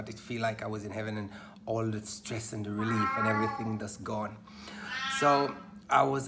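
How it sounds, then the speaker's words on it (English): A Bengal cat meows loudly and repeatedly, its cries overlapping with a person talking continuously nearby. "that's my cat going mental."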